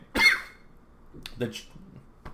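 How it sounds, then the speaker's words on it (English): One sharp, close cough bursts out, followed by a few softer throat and breath sounds. "Sorry about that cough."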